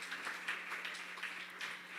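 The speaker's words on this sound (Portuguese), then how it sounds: "Dá uma salva de palmas para o Senhor" Church congregation at IEQ Sede Piracicaba breaks into applause, a soft, distant patter of many clapping hands heard faintly and evenly throughout.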